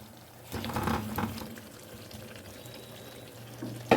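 Fried potatoes tumble into a pan of hot spiced oil while cooking Kashmiri aloo dum, a brief rush of sizzle and clatter that quickly settles into a low, steady simmer.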